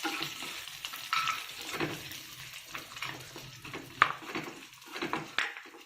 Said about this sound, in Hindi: अब हम इसमें जो है सारे ड्राई फ्रूट जो है भून लेंगे।